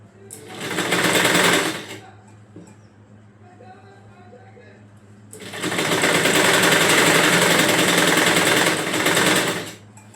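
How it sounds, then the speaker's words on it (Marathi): A sewing machine stitches straight seams in petticoat cloth, running loud and close in two bursts: a short one, then a pause, then a longer steady run. "फक्त सरळ सरळ कापडावर शिलाई मारी चाललेली आहे"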